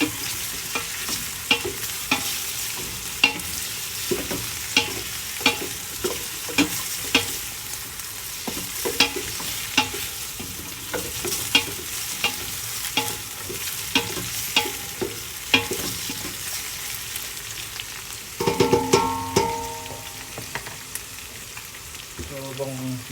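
Meat for kare-kare sautés in a pan, with steady sizzling and frying and frequent scrapes and stirring knocks from a spatula, close and continuous, and a louder clatter of utensils near the end.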